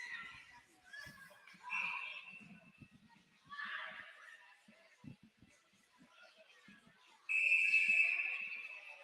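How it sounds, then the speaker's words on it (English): Scattered voices and cheers at a Rough Riders vs Foothills game, then a referee's final whistle sounds one long, loud, shrill blast near the end. "Final whistle from the referee"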